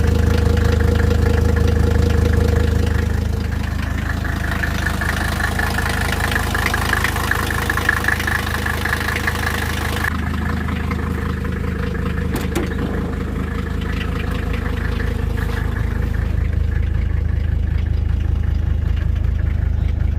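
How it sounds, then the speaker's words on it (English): Mercedes 300TD wagon with an OM617 diesel engine idling cold with a major exhaust leak: a close, steady clattering diesel chug with rhythmic ticking puffs, loud and unbroken throughout, no voices. "Major exhaust leak under here."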